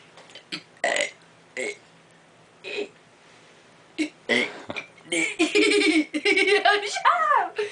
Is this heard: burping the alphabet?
yes